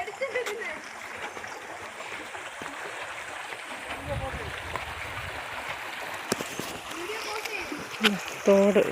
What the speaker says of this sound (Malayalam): തോട് നല്ല വെള്ളമൊക്കെ